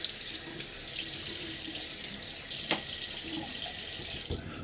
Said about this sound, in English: Water on my face.